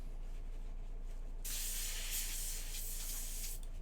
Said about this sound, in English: Spritz it with Windex.